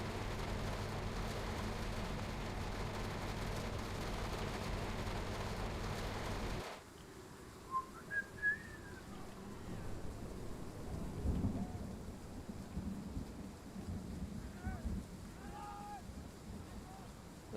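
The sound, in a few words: thunderstorm with rain in Train Sim World 5 video game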